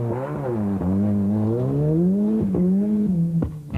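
An old Ford Escort rally car at the 1992 Donegal International Rally, its engine droning loud and close with rising and falling revs and a few sharp gear-change breaks.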